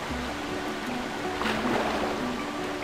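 Steady rushing river water flows as a character drifts downstream in Zelda Twilight Princess, a continuous wash of surf-like noise with a soft low hum beneath.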